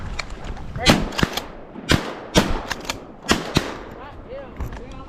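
A shotgun fires a series of loud, sharp shots, some in quick pairs, during a public-land duck hunt in Arkansas. The shots echo in the open air, and a man calls out between them.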